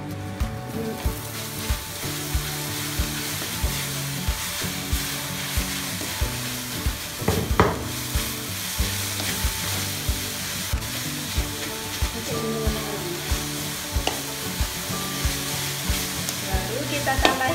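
Grated coconut sizzles in dark caramelized sugar while a spoon stirs it repeatedly, a steady loud frying crackle with rhythmic scraping strokes close by, for Acehnese pumpkin timphan.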